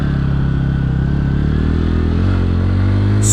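2023 Bajaj Pulsar N160 motorcycle being ridden and sped up, a loud, steady engine drone with wind noise whose pitch climbs gradually as it accelerates.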